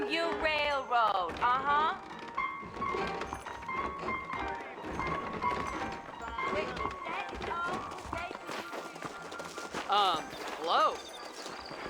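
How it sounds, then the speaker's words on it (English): Hooves of saddled horses thud and clop in the Red Dead Redemption western game, heard beneath a man's dialogue and a rising musical backdrop. "I got the horses saddled up and ready out front."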